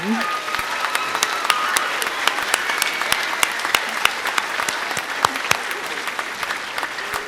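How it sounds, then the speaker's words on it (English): A holiday band concert audience claps steadily for several seconds, a dense wash of applause with sharp individual claps standing out nearby. "Another round of applause for our narrators and Mr. Ben Beadle for working the microphone."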